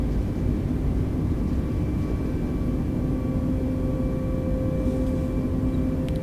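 Airbus airliner in a flight simulator game accelerating down the runway on takeoff, a steady loud jet engine roar with a droning hum that holds unbroken and close throughout.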